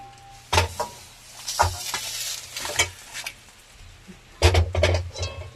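Bhola fish cooking on a leaf being turned over, with soft sizzling beneath scraping and clattering bursts of handling, spaced irregularly.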